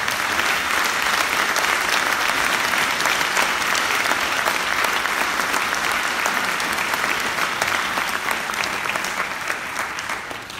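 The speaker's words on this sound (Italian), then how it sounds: "quindi il primo applauso lo farei a tutti" Audience applause at the Bergamo Film Meeting 36 award ceremony, a dense, steady clapping from a large crowd that holds for about ten seconds before easing slightly at the end, with no talk over it.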